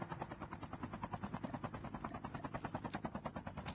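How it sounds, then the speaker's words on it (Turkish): A helicopter in the video game Call of Duty Mobile battle royale mode makes a rapid, steady rotor thudding that pulses evenly throughout, loud and close, with no talk over it. "Helikopterimi de kaptırdım."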